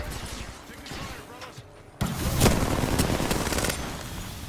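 Automatic gunfire in the video game Apex Legends, rapid bursts of shots that grow louder and denser after a brief lull, mixed with other in-game effects and a player speaking over the fight.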